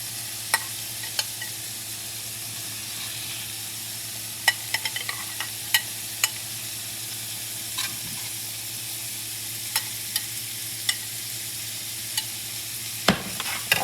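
Tofu with mushrooms fries steadily in a pan, a constant close sizzle with a low hum beneath, broken by occasional light clicks and taps of a utensil and a louder knock near the end, with no talking.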